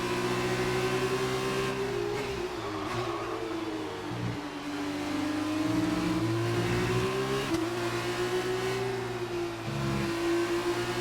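A Formula 1 race car engine in the F1 2019 video game whines steadily and loudly, its pitch rising and dipping through gear changes with no talk over it.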